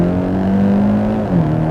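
A 2022 Hyundai Elantra N launches in N mode with launch control on a cold day, its engine droning loud and steady before a brief dip and recovery like a gear change, with no talk.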